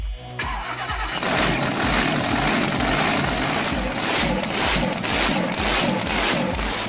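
A loud 11.1-litre alcohol-fuelled motorboat engine starts and roars at close range, a steady heavy drone with rhythmic pulsing that runs continuously after a brief cranking at the start.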